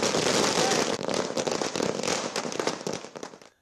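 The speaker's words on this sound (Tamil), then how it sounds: "குவிந்த அதிமுக தொண்டர்கள் பட்டாசு வெடித்து" Firecrackers set off by celebrating party supporters outside a politician's residence crackle in a dense, loud, continuous burst of rapid pops that thins out toward the end.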